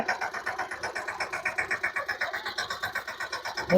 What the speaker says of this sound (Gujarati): મમ્મી ટ્રેક્ટર હાંકે છે